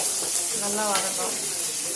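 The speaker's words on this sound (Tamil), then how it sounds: "நல்லா நறுக்கி வச்ச வெங்காயத்தை போட்டோம்." Chopped onions sizzle in hot oil with a steady, even hiss throughout, and a faint voice is briefly heard mid-way.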